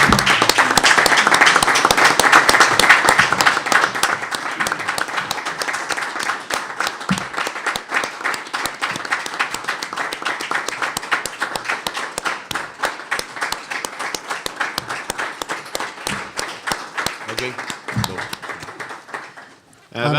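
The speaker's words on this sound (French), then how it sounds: "ça prend une bonne main d'applaudissements" Audience applause fills a municipal council meeting room in Coaticook, a dense, steady patter of many hands that swells loudest early on, then holds evenly for about twenty seconds before tapering off abruptly at the end.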